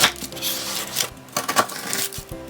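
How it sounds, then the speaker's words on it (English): Sharp knife cutting a chilled chocolate rice bubble slice into small squares, giving close, crunchy crackling and brittle snapping bursts with knife taps, no talking. "we're just going to cut it with a sharp knife into little squares"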